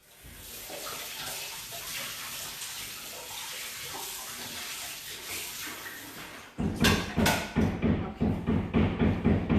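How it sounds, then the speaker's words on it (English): Tap water runs steadily into a sink while something is rinsed for a cucumber dish, then turns into a louder, rhythmic splashing and sloshing near the end. "I'm actually also going to rinse this because I'm going to use this for my cucumber in a bit."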